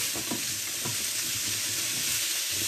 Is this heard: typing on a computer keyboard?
no